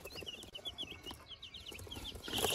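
Freshly hatched young chicks chirp and cluck in quick, high, repeated peeps, close and moderately loud, with a rustling rise near the end and no speech.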